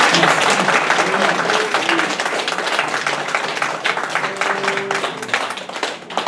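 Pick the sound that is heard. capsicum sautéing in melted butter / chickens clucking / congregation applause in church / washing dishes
congregation applause in church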